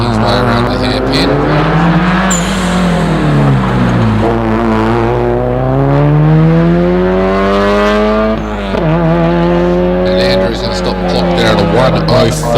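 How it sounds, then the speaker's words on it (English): Subaru WRX race car powering around a hillclimb hairpin, a loud engine note rising and falling through the gears as it accelerates away, with a commentator talking over it throughout. "The WRX making his way around the hairpin."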